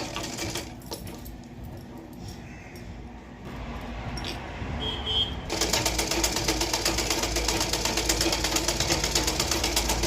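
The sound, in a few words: sewing machine stitching side seam of a blouse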